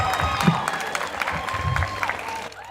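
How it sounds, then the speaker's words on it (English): Audience applause at a university graduation ceremony, a steady wash of clapping filling the hall with some crowd noise mixed in, cutting off sharply near the end. "Clap for me now."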